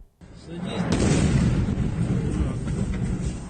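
A deep, booming missile explosion in Ukraine erupts after a brief silence, rolling out into a long, heavy rumble that slowly fades.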